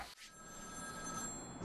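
A telephone rings in the Batman: Arkham City video game, a steady electronic ring held for a short burst, fairly loud and alone.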